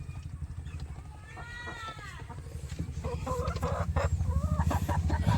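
Chickens in a small backyard flock of hens cluck close by, a pulsing run of rapid low calls with a few higher squawks and a rising cackle toward the end.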